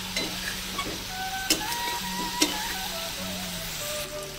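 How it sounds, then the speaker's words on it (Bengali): Cabbage and prawns frying in a pan, being dried out: continuous close sizzle with a few sharp scrapes and clacks of a spatula stirring against the pan, no talk. "মানে ভাজার মতন করে নেবো, এটা শুকিয়ে নেবো একদম।"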